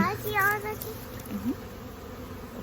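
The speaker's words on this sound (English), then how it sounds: "there's a couple bees with some really full pollen baskets" Honeybees buzz faintly at the hive entrance, carrying full pollen baskets, a soft continuous drone beneath a person talking briefly.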